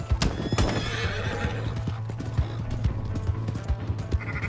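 A horse in Red Dead Redemption 2 neighs loudly near the start, then its hooves clip-clop in a quick, steady galloping rhythm, close and prominent, with faint game background noise.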